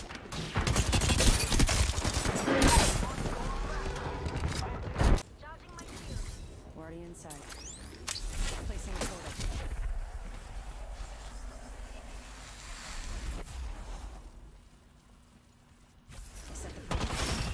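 Gunfire from an Apex Legends match, with rapid shots and sharp impacts in dense bursts early on, then sparser cracks over wind-like game ambience and engine rumble while a player talks throughout.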